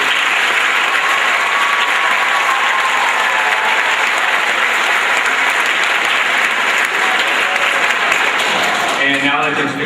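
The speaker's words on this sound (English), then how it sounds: "So a round of applause for the 2010 girls" A hall audience gives a round of applause for the 2010 girls' Class D state champion team, dense and loud clapping that holds steady for the whole stretch with crowd noise mixed in.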